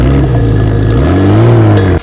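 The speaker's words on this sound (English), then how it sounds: "direct start our GTR engine" A GTR sports car engine in a mobile hero battle game revs loudly and steadily, with its pitch rising near the end, for a short close burst.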